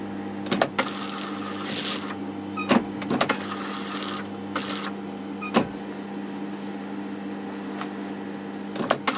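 A sewing machine stitches fabric with a steady mechanical hum, broken by short bursts and clicks as it stops and starts while the fabric is pivoted around the stitch.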